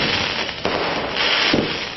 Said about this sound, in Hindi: इस दौरान बीजेपी दफ्तर आतिशबाजी से गूंज उठा।